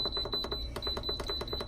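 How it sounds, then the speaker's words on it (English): Instant Pot pressure cooker sounding a rapid series of short electronic beeps in a kitchen, a steady high tone pulsing repeatedly and close by, with no talk over it. "Sorry for the incessant beeping sound."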